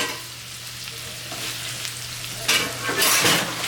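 Sausage and chorizo frying together in a pan for charro beans, a steady close sizzle with a few louder crackling bursts and stirring scrapes toward the end, no talking.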